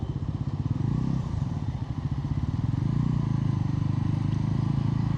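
A 2025 Bajaj Pulsar NS 400Z motorcycle on a ride, its engine thrumming in a steady close, loud pulsing drone with a slight shift in pitch partway through, no talking.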